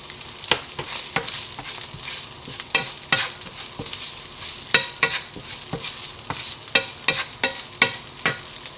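Chorizo fries in a pan, a steady close sizzle broken by repeated scraping clicks of a utensil stirring and turning the meat, with no voices.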